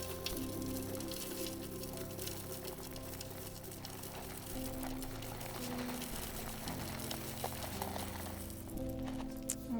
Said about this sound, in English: I'm going to pour this amazing flake blend wax into the pouring pitcher